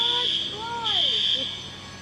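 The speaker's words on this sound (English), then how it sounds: "Here, this is why we're hearing the alarm." A building alarm rings at a building damaged during street protests, a steady high electronic tone heard outdoors, with someone talking over it and a brief swooping siren-like sound in the background.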